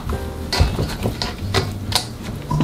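A kitchen knife chops green onions into short pieces on a cutting board, giving a run of close, sharp, irregularly spaced taps with no talking.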